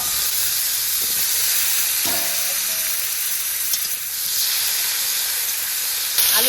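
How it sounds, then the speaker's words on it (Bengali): Potatoes frying in hot oil with turmeric and salt give a steady close sizzle and hiss, with a few faint utensil clinks and stirring sounds along the way. "আলুটা হলুদ লবণ দিয়ে আমি আগে ভেজে নেব।"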